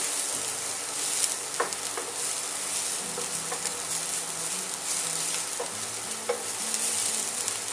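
Smoked salmon sauce sizzles softly in a pan, a steady frying hiss broken by occasional scraping stirs and light utensil clicks, with no voices.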